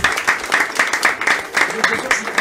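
A small studio audience claps for the handball club guests on a sports radio show, with quick, evenly spaced claps running steadily throughout at moderate volume.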